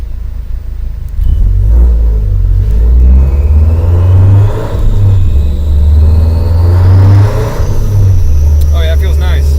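The engine of a 2008 Subaru STi with a G30-770 turbo on flex fuel revs and rumbles loudly and steadily throughout, its low drone rising and falling, with a voice speaking over it.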